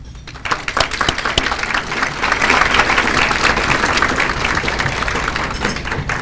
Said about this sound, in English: Let's also give all the parents, guardians, and supporters here a big round of applause.